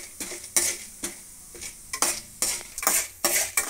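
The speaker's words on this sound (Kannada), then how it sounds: "ಸ್ವಲ್ಪ ಫ್ರೈ ಆಯಿತು ಈ ಥರ, ತುಂಬ ಬಾಡೋಗ್ಬಾರ್ದು, ಈ ಥರ ಫ್ರೈ ಆಗಬೇಕು ಕಡಲೆಬೇಳೆ" Chana dal fries in a hot pan while being stirred: soft oily sizzling under a series of scraping, clinking stirs that come roughly every half second, close and moderately loud.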